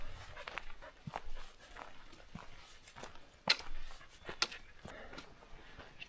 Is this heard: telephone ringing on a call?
no